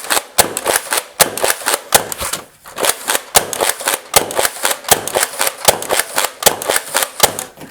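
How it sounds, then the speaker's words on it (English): A 2019 Nerf Rival Hypnos blaster fires round after round through a full magazine, loud sharp pops coming in a quick, fairly regular rhythm close by, with one brief pause partway through. "let's just crank through this magazine real quick just to kind of prove our point"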